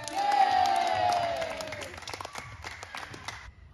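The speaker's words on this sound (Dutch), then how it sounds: "En applaus voor jullie." Students after a gym class break into loud clapping and cheering, with a rising shout at the start, then scattered claps and whoops fading out within a few seconds.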